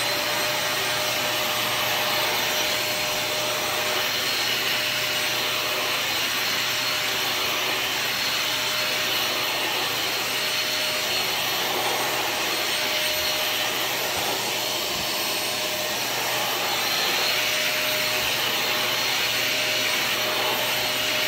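A 2024 Deluxe vacuum cleaner runs steadily, close and loud, a constant whooshing roar with a high whine that holds for the full length with no voices.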